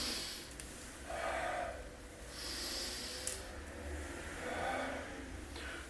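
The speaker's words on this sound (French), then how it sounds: "On inspire et on souffle." Deep, slow breaths in and out during a back self-massage, three long airy swells at a steady pace, close and fairly loud with no talking.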